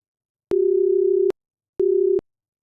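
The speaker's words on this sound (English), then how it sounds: "I'm going to do a phone check here real quick and see if we can hear it when I call my own phone here." An electronic telephone call tone sounds while someone calls their own phone: a steady beep lasting almost a second, a pause, then a shorter beep, clean and alone.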